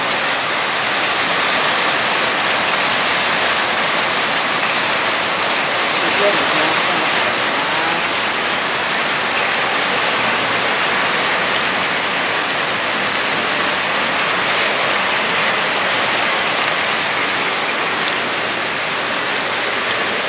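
Heavy hail pours down in a steady, loud hiss and patter with no pauses, a dense wash of impacts filling the whole stretch.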